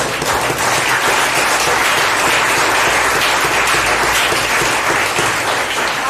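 A church congregation applauds loudly and steadily during a sermon, a dense wash of many hands clapping together without pause, close and full.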